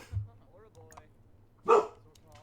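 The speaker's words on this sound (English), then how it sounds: "what are you barking about?" A dog barks in The Sims 4 with one sharp, loud yelp standing out against quiet game background sounds and soft chatter.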